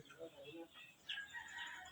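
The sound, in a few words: caged chickens near the house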